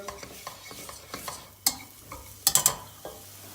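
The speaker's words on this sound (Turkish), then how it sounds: "Naneyi de ortalama 20 saniye kadar bir kavurdum salçayla beraber." Dried mint sautéing with tomato paste in a pan, a soft sizzle broken by several sharp scrapes and clinks of a utensil stirring against the pan, close and steady.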